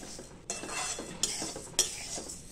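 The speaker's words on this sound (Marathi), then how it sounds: "छानपैकी आपल्याला धण्याचा वास येईपर्यंत हे भाजून घ्यायचंय" Coriander seeds roasting in a pan over medium-low heat, with a utensil scraping and clinking against the metal in three distinct knocks over a soft rustle; quiet and close.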